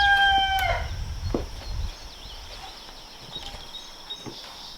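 Chickens in a coop on a homestead, with a rooster crowing near the start followed by scattered soft clucks and rustling amid low background hum.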